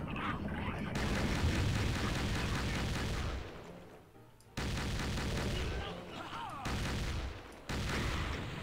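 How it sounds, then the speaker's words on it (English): Cannons boom in the pirate video game Pirate Doom, coming in loud sustained volleys of rumbling gunfire, broken by a couple of brief quieter gaps. "The cannons are nice, but it does take quite a few of them to take down enemies"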